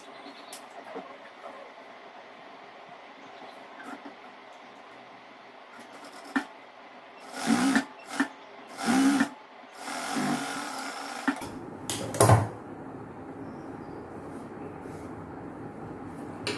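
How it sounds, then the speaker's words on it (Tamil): A sewing machine stitches seams on a chudidhar gathering pant in a tailoring class. Several short motor bursts whir up and stop against a quiet room hum, with one longer run near the end. No voices are heard. "நம்ம தையல் போட்டுக்கலாம்."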